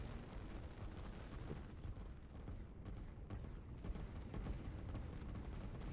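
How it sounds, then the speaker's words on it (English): Artillery fire in the strategy game Line War, a dense continuous rumble of overlapping distant booms and blasts running steadily throughout, fairly quiet with no speech. "The artillery will take them out"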